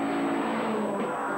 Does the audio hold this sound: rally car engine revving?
yes